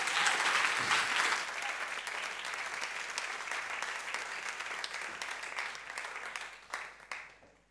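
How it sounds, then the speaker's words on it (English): Warm applause from an audience at an evening performance greets a singer, a dense sustained clapping that is loud at first and slowly tapers, with a few sharper claps near the end. "So let's give her a warm applause"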